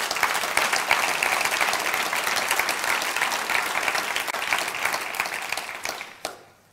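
Audience at a D66 party gathering applauding the party staff, a full, lively round of clapping from a large crowd that tapers off, ending with a final sharp clap.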